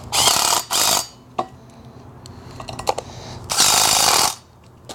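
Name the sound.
tightening swing assembly bolt with Allen wrench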